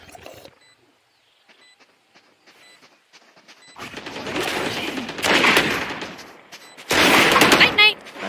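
Gunfire bursts from a Valorant-style competitive shooter match between KRU, GIA, NRG and ZETA, with sparse clicks early, then dense loud rattling volleys building toward the end, a commentator's voice faintly underneath.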